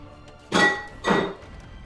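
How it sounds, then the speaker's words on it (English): A dog bangs around in a kitchen, producing two loud, brief thumping clatters about half a second apart, close by, with quiet room tone between them. "As my dog's banging around in the kitchen."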